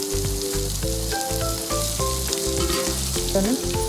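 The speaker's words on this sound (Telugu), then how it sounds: "ఇలా కొంచెం ఆయిల్ హీట్ చేసుకుని అందులో కొత్తిమీర యాడ్ చేసుకోవాలి. అందులోనే పుదీనా యాడ్ చేసుకోవాలి." Fresh coriander and mint leaves sizzle hard in hot oil for mint rice, a dense continuous crackle close by with light stirring and soft background music.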